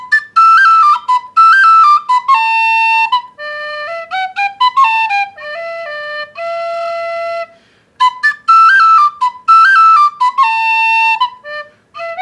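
A bright Irish tin whistle plays the folk tune The Foggy Dew solo, with clear sustained notes and ornamented runs, loud and close.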